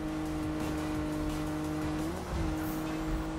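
Steady engine drone from a car with a Low 500 exhaust in Need for Speed on PS4, a loud continuous tone with a brief pitch shift near the end.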